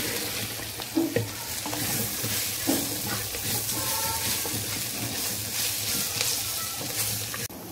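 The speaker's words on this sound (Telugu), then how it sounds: "మునగాకు వేసి బాగా కలపాలండి।" Drumstick leaves are stirred into a curry sizzling in a pan, a steady loud frying hiss with occasional scraping knocks of the spoon, continuing throughout without speech.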